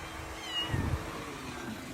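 Several kittens mew in a short burst, a brief cluster of thin cries rising over a low, steady background, fairly close and moderately loud.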